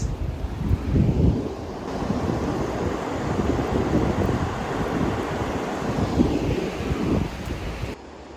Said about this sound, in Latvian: Es nezinu, vai dzirdēs, jo vējs.